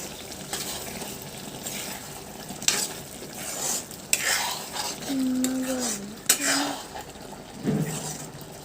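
Mixed fish charchari frying in a pan, with a steady sizzle, repeated scraping stirs and occasional sharp clinks of a metal utensil against the pan, all heard close up.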